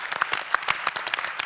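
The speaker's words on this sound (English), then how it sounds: "Big round of applause while he reboots the server." Audience applause breaks out while a server reboots mid-way through a live startup demo at a launch festival session; steady, moderately loud clapping from a crowd fills the short stretch, with no talking over it.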